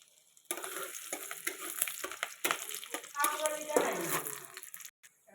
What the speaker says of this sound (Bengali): কড়া বসিয়ে তেল দিয়ে দিলাম। এর মধ্যে আদা রসুন দিয়ে দেব।